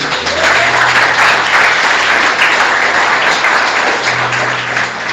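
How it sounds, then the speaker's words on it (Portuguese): Dense, sustained applause fills a church as a large congregation claps together, loud and continuous with a crowd wash and no speech on top. "Você pode dar um aplauso ao Senhor Jesus?"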